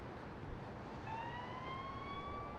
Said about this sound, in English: When you hear that ambulance wail